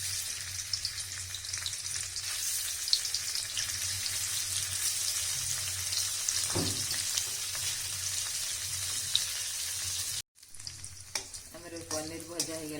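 Paneer cubes fry in about two spoons of hot oil in a pan, giving a steady, close, dense sizzle throughout that briefly cuts out near the end before resuming with light stirring clatter.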